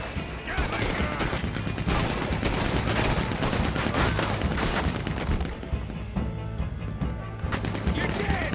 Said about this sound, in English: This Gatling gun's destroying everything!